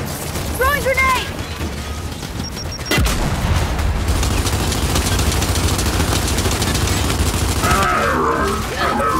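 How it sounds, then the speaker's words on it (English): A frag grenade thrown and exploding in Gears 5 on PC: a sharp, loud blast about a third of the way in, followed by sustained crackling combat noise, with shouted voices and creature cries early on. "Frag out! Throwing grenade!"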